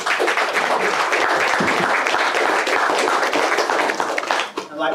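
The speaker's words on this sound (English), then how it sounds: "Give him a hand clap." A church congregation at an anniversary service claps their hands in praise: loud, dense applause from many people, sustained for several seconds before thinning out near the end.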